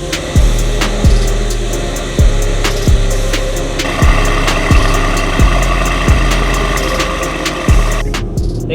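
Mercedes-AMG E63s fitted with PTG carbon fiber intakes pulling away from a shop, a loud close engine drone with a regular thumping pulse and a steady hum running underneath throughout.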